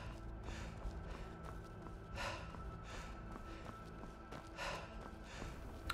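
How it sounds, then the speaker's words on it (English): A character in the video game Skyrim pants in a faint, steady rhythm, breaths recurring every couple of seconds over a low background hum. "Our character would stop panting."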